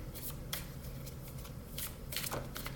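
A deck of tarot cards is shuffled by hand in a quiet room, giving repeated crisp riffling bursts and soft slaps at close range, with no talking.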